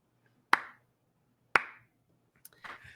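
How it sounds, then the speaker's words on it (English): Three slow, deliberate hand claps ring out about a second apart in a quiet space, followed by faint scattered noises at the end. "The slow clap is so ominous, April."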